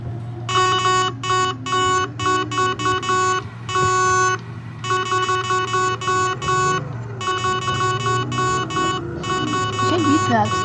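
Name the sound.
vehicle horn honking in the video game Roblox Transport Simulator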